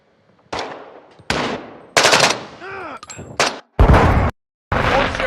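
Gunfire in Call of Duty Modern Warfare 2, loud bursts of rapid shots separated by brief gaps, with whistling, descending tonal sound effects in the middle, close and punchy.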